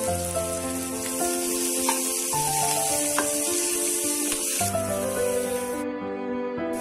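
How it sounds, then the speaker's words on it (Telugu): Onions fried in a pan with salt and turmeric for a cabbage egg fry, giving a steady, close sizzle and crackle throughout, with no talk. "ఇప్పుడు ఇవి బాగా వేగనివ్వాలి దీంట్లో కొంచెం పసుపు యాడ్ చేసుకోవాలి"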